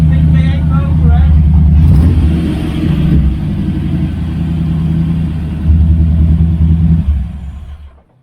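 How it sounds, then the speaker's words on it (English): A big V8 engine in an AC Cobra runs with a deep, loud, steady rumble up close, briefly rising in revs before settling and cutting off at the end, with people talking over it. "Nice strong big V8 motor, eh?"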